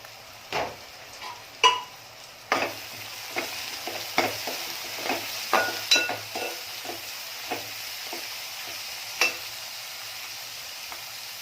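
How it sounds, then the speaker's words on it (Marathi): Chopped capsicum cooking with onion in a pan for pav bhaji, a soft background sizzle broken by irregular spatula taps and scrapes, close and moderately quiet, with no voices. "ती सुद्धा कांद्यामध्ये पूर्ण शिजून घ्यायची आहे"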